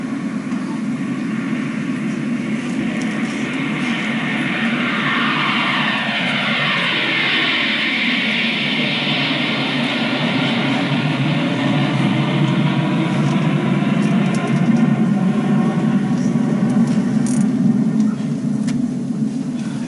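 Airplane taking off played as a sound effect in a school play, a continuous loud engine roar that swells and sweeps in pitch across about twenty seconds, steady throughout without clear speech.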